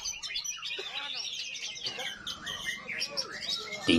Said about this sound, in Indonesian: Ini kelas Murai Batu, Pak. Itu Murai Batu.